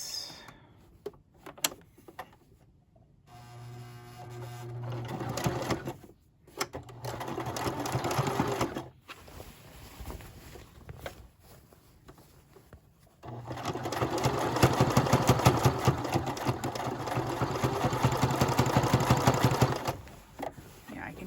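Sewing machine stitching button-down shirt fabric for an upcycled skirt, running in two long bursts of steady rapid whirring with short stops between, the machine working hard.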